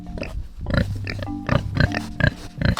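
Pig grunting in its pigsty on a farm: a run of close, fairly loud, throaty grunts and snorts that come in quick uneven bursts with short pauses between them.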